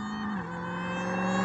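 A supercharged Dodge Challenger Demon engine revs steadily, its tone climbing and growing louder toward the end, with no talking over it.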